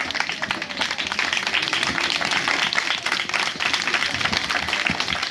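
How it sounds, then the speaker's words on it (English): An audience at a formal function claps and applauds in a dense, steady wash that goes on the whole time, fairly loud and with no pauses. "A round of applause."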